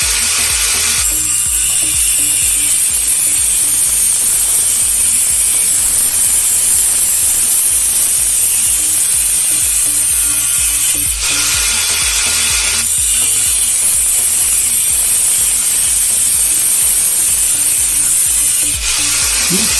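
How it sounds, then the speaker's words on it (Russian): A cordless Makita-style 18V angle grinder running on a homemade battery pack whines loudly and steadily, with a couple of brief dips in pitch where the load changes, and no one speaking. "Теперь небольшой тест батареи и болгарки."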